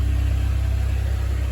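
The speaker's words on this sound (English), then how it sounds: "Okay, so David and I are going to drop this little Buick Skylark off" A Buick Skylark being driven, heard as a steady low engine drone and road rumble from inside the car, constant and even with no talking.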